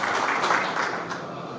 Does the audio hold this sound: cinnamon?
no